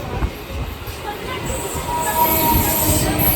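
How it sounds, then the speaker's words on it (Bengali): A Vande Bharat express train rushes past at a station, its wheels rumbling and squealing in a steady rolling roar that builds slightly toward the end. "বন্ধুরা দেখো, বন্দে ভারত যাচ্ছে,"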